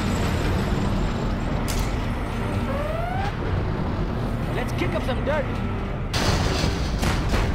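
Command & Conquer Generals Zero Hour battle audio with a voice over a constant rumble, ending in a loud rushing blast as a Scud Storm missile strike launches.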